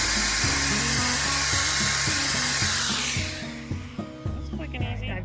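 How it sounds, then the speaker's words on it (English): A loud, steady drill whine drilling a spout hole in a mosaic fountain substrate dominates at first, then fades as rhythmic musical notes continue underneath with some knocking. "I'm gonna drill the hole for the spout and test it out again"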